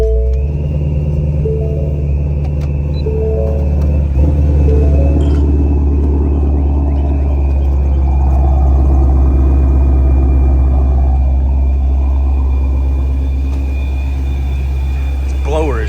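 A loud supercharged Ford Mustang GT350 engine rumbles at idle with a steady high-pitched blower whine riding above it, while a voice talks over the top.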